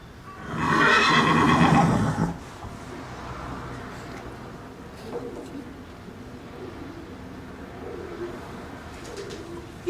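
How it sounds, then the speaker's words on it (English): A horse lets out a loud, close whinny lasting about two seconds, followed by quieter outdoor background with faint birds and occasional soft sounds. "This is a horse here, by the way."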